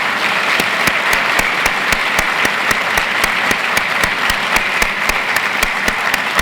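Steady, loud applause from a university audience honoring the Master Planning Committee at a State of the University address, with dense continuous clapping and a few sharp, evenly spaced claps standing out close by.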